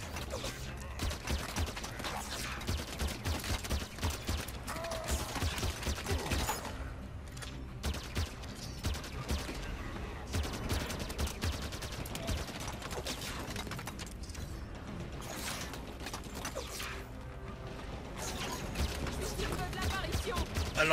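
Gunfire during an attack on a turret in the shooter Halo 5 Guardians, steady rattling shots and mechanical clatter at moderate level, with someone talking over the fight.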